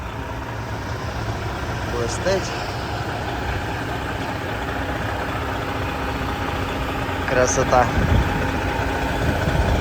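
A Kenworth truck idling just after a wash, a steady low engine rumble running throughout with a slight rise near the end, while someone speaks briefly over it.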